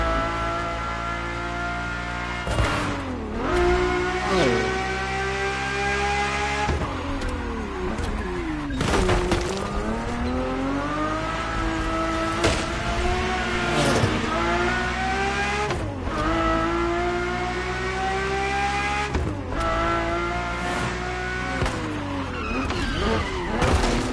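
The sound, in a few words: Ferrari F40 and Ferrari F50 cars driving, racing video game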